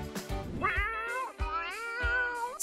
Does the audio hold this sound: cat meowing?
yes